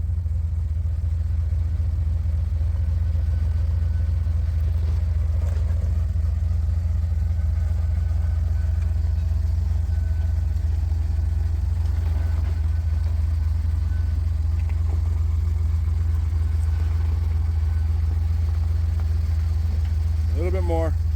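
An off-road truck engine idles with a deep, steady rumble throughout at an off-road park's concrete play area, with faint voices and light movement noises above it.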